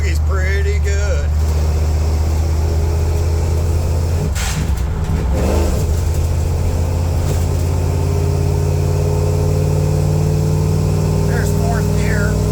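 A 1986 Ford Bronco with a swapped fuel-injected 460 V8 accelerates from inside the cab, a loud steady engine roar with road noise, while a person talks over it.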